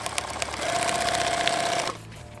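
Sewing machine stitching across a Thermacell pouch, a steady close mechanical whir with rapid needle chatter for about a second and a half before stopping.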